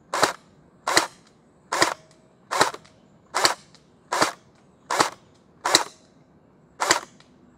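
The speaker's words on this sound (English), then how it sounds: "I'm going to do single fire mode first." A Splatterball SRB400 gel blaster loaded with stock gel balls fires in single mode, giving nine evenly spaced snappy pops roughly a second apart, moderately loud and close, with no voices.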